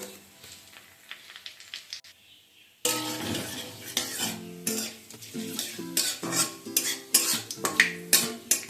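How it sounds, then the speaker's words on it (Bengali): Bengali five-spice seeds and a torn bay leaf dropped into hot oil for tempering: after a quiet start, a sudden loud sizzle breaks out, followed by continuous frying crackle and rhythmic stirring clinks of a utensil against the pan. "তেল গরম হয়ে গেলে এর মধ্যে ফোড়নে দিয়ে দিচ্ছি পাঁচ ফোড়ন একটা তেজপাতাকে মাঝখান থেকে ছিঁড়ে দিয়ে দিলাম"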